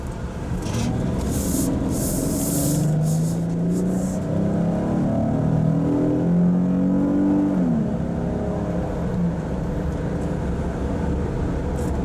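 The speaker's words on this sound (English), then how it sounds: "Stays nice and quiet after you hear the throaty V6 engine." A 2023 Kia Carnival minivan's V6 engine accelerates with a steady, rising drone from inside the cabin, its pitch climbing through the gears before easing off, under constant road and wind noise.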